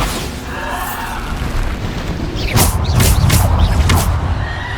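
A Bombarda blasting spell explodes in the video game Hogwarts Legacy, a loud booming burst with rumbling low end and crackling bursts over a steady game ambience, no talk.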